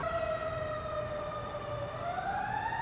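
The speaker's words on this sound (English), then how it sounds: "there's a lot of sirens." Emergency vehicle sirens wail through a city street, a single rising and falling electronic tone sweeping over a low traffic rumble, moderately distant and unbroken.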